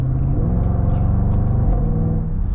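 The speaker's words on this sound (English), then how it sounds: "the AJ V8s are just iconic for those incredible thunderous, raucous sound when they're really opened up" A Jaguar F-Pace SVR's AJ V8 engine revs hard, a loud, steady, thunderous rumble that climbs in pitch, drops briefly as if through a gear change, then keeps pulling, with no voices over it.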